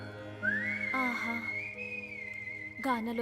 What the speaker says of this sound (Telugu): అతగాని ఈలాగానము విన్న కొద్దీ వినాలనిపించుచున్నది ప్రభు